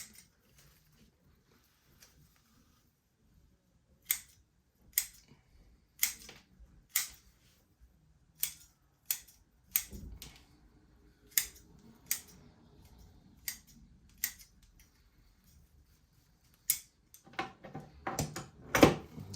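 A mini Schefflera bonsai's root mat is cut back in a series of sharp, separate snips, close and quiet, spaced a second or so apart, with a brief low rustle in the middle.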